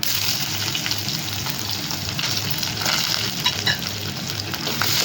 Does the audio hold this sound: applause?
no